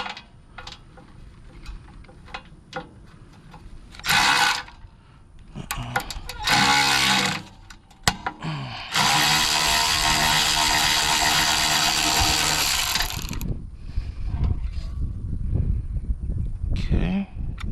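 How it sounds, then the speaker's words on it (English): Ratchet clicking in bursts while removing front cover bolts from a Generac Centurion generator, with one long sustained stretch of rapid ratcheting in the middle; close and fairly loud, with no talk over it. "now let's take off these front cover bolts"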